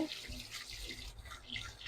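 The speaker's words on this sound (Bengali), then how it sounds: "একটা স্ট্রেনারে ঢেলে পানি দিয়ে ঠান্ডা করে পানি ঝরিয়ে নেব" Running water splashes steadily from a tap onto boiled noodles in a strainer in a sink, a close, continuous gush with no talking.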